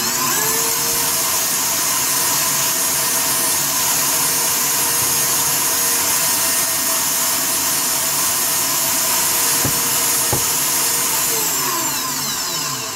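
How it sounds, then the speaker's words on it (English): A KitchenAid stand mixer runs on a high speed setting, beating egg yolks for mayonnaise; a loud, steady motor whine holds unbroken for the full stretch, with no voices over it. "I set my KitchenAid on 9 for this."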